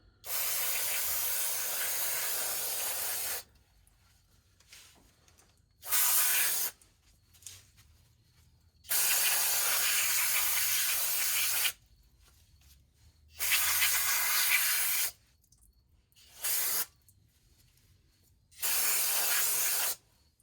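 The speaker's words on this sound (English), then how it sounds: "Number one, clean it with the brake parts cleaner." Brake parts cleaner sprayed onto the rear brakes of a 2005 BMW X5, several loud hissing bursts of a few seconds each separated by quiet gaps, close and alone.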